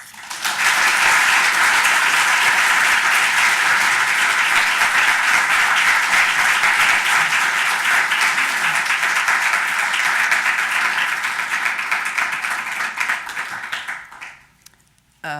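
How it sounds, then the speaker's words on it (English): A lecture audience gives a warm round of applause welcoming a judge, loud sustained clapping that holds strong for about thirteen seconds before fading quickly to quiet. "please join me now with a very warm welcome and round of applause for Judge Joan Donoghue"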